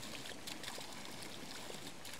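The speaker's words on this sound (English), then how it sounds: "Let it glug all the air out of the system." Water from a small creek source rushes through a gravity-fed off-grid pipe system as air is pushed out, a faint, steady trickling flow with no voices.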